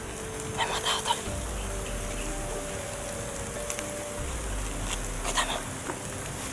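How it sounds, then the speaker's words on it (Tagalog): Heavy rain pours in a dense, continuous hiss, with low rumbles and brief higher tones drifting through it, and no voices on top. "Masyadong malakas ang ulan dito"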